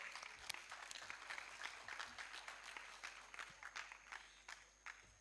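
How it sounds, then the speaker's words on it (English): At a school annual day function, an audience gives 9th grade students a round of applause, faint scattered clapping with separate distinct claps in a hall. "Please give the students of 9th grade a huge round of applause for their talk show."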